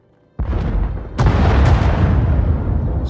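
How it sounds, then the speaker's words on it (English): Bombing explosions in the Star Wars: The Old Republic video game: a sudden loud blast followed by a second heavy boom, then a sustained roaring rumble of continuous bombardment with no talking. "Sounds like the bombing's getting closer."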